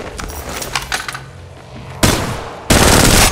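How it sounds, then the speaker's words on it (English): Gunfire in the Apex Legends Mobile video game begins as lighter, rattling shots, then two sudden, very loud automatic bursts erupt close by near the end. "Shooting."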